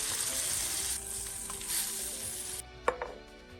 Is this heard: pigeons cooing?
no